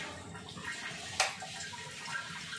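Tap water runs steadily in a kitchen during cooking, a soft continuous rushing wash that carries on through the whole moment with no voices.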